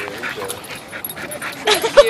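A puppy at a dog park makes small whimpers, yips and panting sounds up close, with brief bursts toward the end as people talk nearby.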